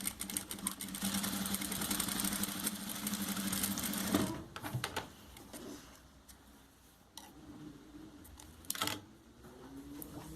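A sewing machine stitches lace on an apron, running steadily with a fast mechanical whir for several seconds, then stopping with a few short bursts and clicks afterward.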